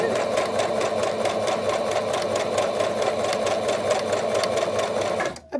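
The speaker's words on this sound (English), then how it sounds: "So now I will continue to stitch just about to the corner." A sewing machine stitches fabric for a face mask, running steadily with a fast rhythmic mechanical chatter close up for several seconds before stopping abruptly at the end.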